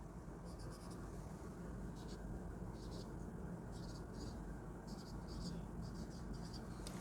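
Pen scratching across paper in short strokes during a biology lesson, soft repeated bursts of writing over a steady low background hum, with a voice speaking faintly at times.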